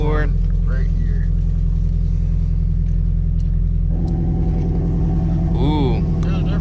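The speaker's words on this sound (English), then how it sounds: "put it in sport mode and you get the exhaust note out of it" A Shelby GT350 in sport mode with its exhaust valve open idles with a deep, steady rumble up close, a brief rev swelling midway, and people talking over it.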